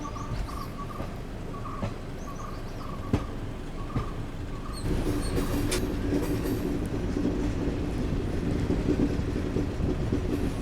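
An AC Garib Rath Express runs on rails between Kochuveli and Yesvanthpur, a steady rumbling roll of wagons with rhythmic clicks near the start, growing louder and denser halfway through, heard up close from the moving train with no talking.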